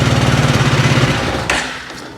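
A Bruteforce 750 ATV engine idling with a loud, rapid, pulsing chug that cuts off and winds down, leaving a brief clatter and fading quiet, no voices.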